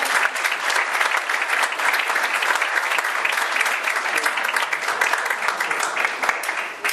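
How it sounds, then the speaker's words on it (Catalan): Sustained audience applause at a museum event for a fishing museum collection, dense and steady clapping from a crowd filling the whole stretch without pause. "li demano un aplaudiment per vosaltres,"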